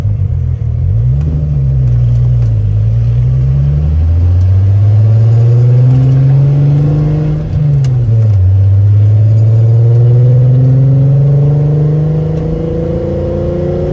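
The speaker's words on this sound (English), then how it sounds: "This is at the point where my car started picking up speed." A VW VR6 engine revs and accelerates hard during a street race against a Mercedes-Benz, its loud, close drone rising in pitch through the gears with a brief dip near the middle and no talk over it.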